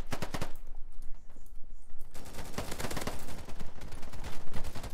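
Rapid gunfire from a multiplayer firefight in the shooter game Polygon, sharp shots crackling in dense bursts near and loud, with a quieter pause before the shooting resumes heavily.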